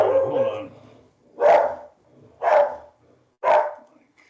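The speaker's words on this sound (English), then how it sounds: "Must be a very loud dog." A very loud dog barks three times in a steady rhythm, close and sharp, after a stretch of background speech during a broadband committee meeting recording.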